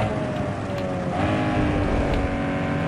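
A Tofaş car skids in the Need for Speed Underground 2 racing game, its engine roaring loud and continuous under a broad hiss of sliding tires that shift in pitch partway through.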